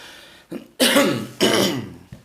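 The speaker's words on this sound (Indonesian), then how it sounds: "Sorry, ada batuk-batuk." A few harsh coughs in quick succession, close and loud, with a short throat sound just before them.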